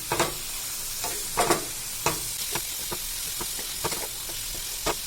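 Green peas are being stirred into a cutlet mixture in a hot pan, with repeated scraping strokes and soft thuds over a low steady sizzle, with no talk.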